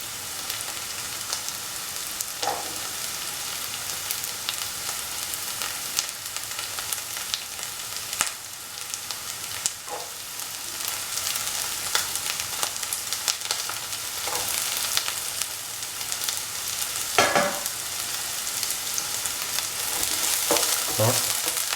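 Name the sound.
chopped onions sizzling and frying in a pan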